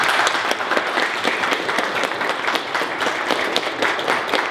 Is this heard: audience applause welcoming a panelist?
yes